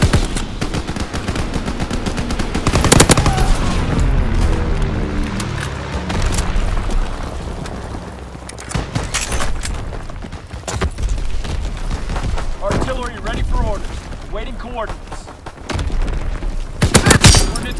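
Video game combat with bursts of machine-gun fire and booming explosions, loud and dense throughout, with sharp blasts near the start and end over a constant rumbling battle background.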